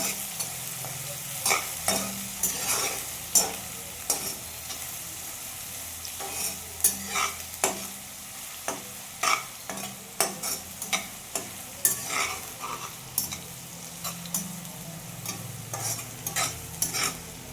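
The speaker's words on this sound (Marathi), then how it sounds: "कांदा छान परतून द्यायचा।" Chopped onion sautéing in a pan for a dry Maharashtrian dill-leaf vegetable dish, a steady close sizzle broken by frequent sharp scrapes and clacks of the spatula stirring, with no one talking.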